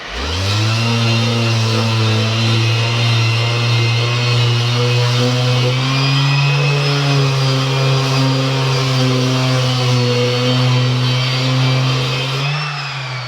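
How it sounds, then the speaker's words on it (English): A dual-action orbital sander fitted with 80-grit paper works over a wheel ahead of powder coating, giving a loud, steady motor whine with harmonic hum that holds constant and rises slightly in pitch partway through, with no talking. "You just take a orbital sander, a DA. I use 80 grit, doesn't really matter."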